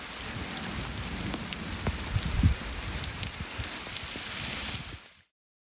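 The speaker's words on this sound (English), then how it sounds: "We had 2 real heavy rains." Heavy rain pours steadily on surfaces along a mountain trail, a dense, loud hiss with scattered drop impacts and low rumbles, cutting off abruptly near the end.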